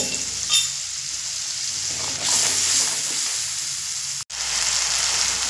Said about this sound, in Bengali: আর দেব হলুদ দিয়ে খুব সুন্দর করে মশলাটা কষিয়ে নেব